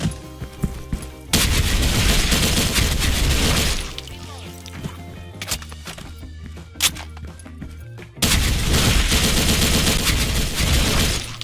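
RPK74 light machine gun with an EOTech sight firing in Special Force 2: two long, loud automatic bursts with a thinner stretch of scattered single shots between them.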